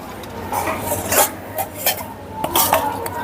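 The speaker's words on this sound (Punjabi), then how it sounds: "ਬਰਤਨ ਸਾਫ਼ ਕੀਤੇ ਜਾ ਰਹੇ ਆ ਇੱਧਰ ਬਰਤਨ ਧੋਣ ਤੋਂ ਬਾਅਦ ਮਿੱਟੀ ਨਾਲ ਮਾਂਜੇ ਜਾਂਦੇ ਚੰਗੀ ਤਰ੍ਹਾਂ" Metal pots and utensils scraped and scrubbed clean with soil after washing at a dera in Bhucho Kalan, giving close, busy clinks, rasps and clatters in uneven bursts.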